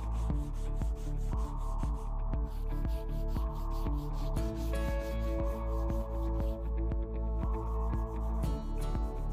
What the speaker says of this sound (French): Puis poncez encore un peu.